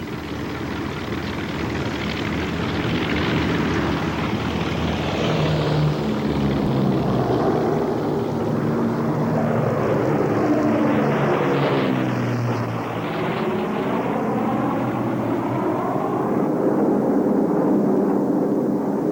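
Fleet of C-47 transport planes flying overhead, a continuous droning roar of propeller engines that swells as the aircraft pass, with no talking.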